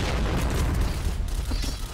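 Grenade blast in the Point Blank shooter game, a low, rumbling boom with muffled bursts rolling on for about two seconds.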